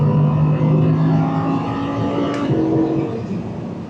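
Audi R8 V10 Performance engine dropping down through three gears, a loud continuous droning roar with shifting harmonic pitch and a brief blip of revs midway, steady and close throughout.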